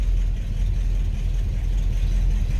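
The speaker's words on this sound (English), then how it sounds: "Nice sounding car." A 1957 Cadillac Coupe DeVille fitted with a new carburetor idles steadily nearby, giving a constant low rumble with no voices over it.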